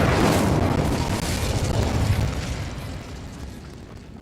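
A burst of fiery spell magic in Hogwarts Legacy, a loud whooshing blast up front that rumbles and slowly fades over a few seconds, with no talk.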